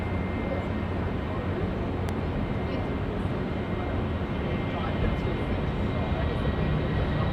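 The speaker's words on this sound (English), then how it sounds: "Jetstar now pumping it out. And this A320 service off to Queenstown." A Jetstar Airbus A320 jet takes off at Auckland Airport, heard as a steady, broad engine roar that holds constant throughout, somewhat distant and loud.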